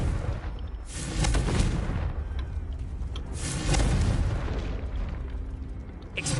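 A Confringo spell blast in Hogwarts Legacy gameplay, heard as deep, rumbling booms that swell twice over dense, continuous noise, loud and close with no voices.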